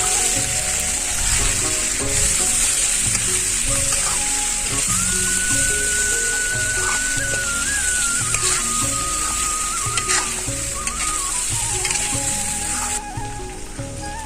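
Pork curry with turmeric and salt sizzles steadily in a pan as it is stirred, a continuous frying hiss running the whole time beneath background music.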